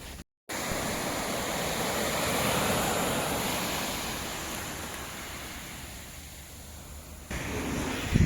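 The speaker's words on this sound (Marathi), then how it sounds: "लाटा उत्स्फूर्तपणे इथे येत आहेत बघा" Ocean waves at high tide on the Konkan shore near Hedvi, a steady broad roar of surf breaking and washing in continuously, loud and close with no voices.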